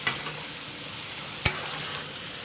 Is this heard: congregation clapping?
no